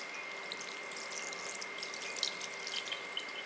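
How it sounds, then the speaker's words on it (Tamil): Water is poured over paneer curds to rinse out the vinegar, a soft, steady splashing and trickle heard alone and fairly faint, with a constant tonal hum behind it. "கொஞ்சம் தண்ணி ஊற்றி வினிகர் போகிற அளவுக்கு நல்லா அலசிக்கலாம்."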